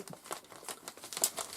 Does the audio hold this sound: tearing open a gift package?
yes